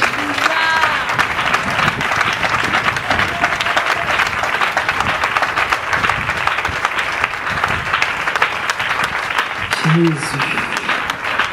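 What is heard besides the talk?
congregation applauding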